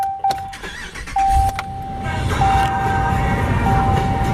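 A 2018 Ram 3500's 6.4 Hemi starts after a key chime: a sharp crank is followed by a steady, close engine rumble at idle while a soft tone keeps pinging.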